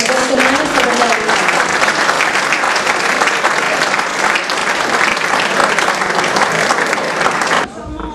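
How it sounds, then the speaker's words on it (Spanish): Loud, sustained applause from a festival audience for the folk group La Tercera at a seniors' folklore festival, steady clapping from a large crowd for about seven seconds before cutting off. "Vamos a darle un fortísimo aplauso a ellos, al grupo La Tercera"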